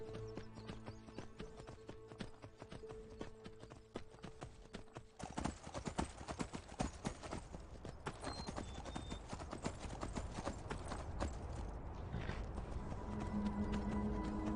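Donkey hooves clip-clop in the video game Enderal, a steady run of hoof strikes that starts sparse and grows busier and louder as the animal moves along, with faint game ambience underneath.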